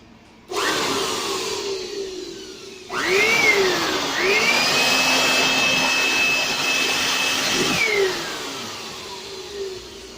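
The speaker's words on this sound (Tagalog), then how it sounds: "So guys, ito po yan yung blower natin." A powerful Stanley STPT600 electric blower vacuum whines into life, drops, then revs up at max setting to a loud, steady high-pitched roar before winding down near the end.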